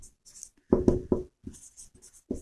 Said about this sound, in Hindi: यहाँ पर मैं लिखता हूँ